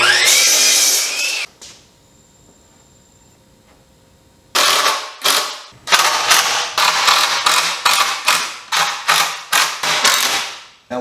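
Lumber being cut for the top pieces of a chicken coop: a loud rasping power-saw cut, a quiet pause, then a long run of repeated harsh cutting strokes close to the listener.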